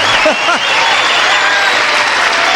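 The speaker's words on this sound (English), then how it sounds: "spontaneously the audience started applauding" Studio audience at a 1978 Card Sharks game show breaking into sustained applause, a dense, steady wash of clapping with a few brief cheering voices near the start, loud and close.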